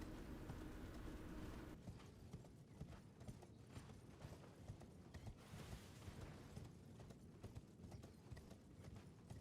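Horse hooves clip-clop steadily in the Elden Ring video game, a rapid, continuous galloping rhythm with faint mechanical creaks, no talk over it.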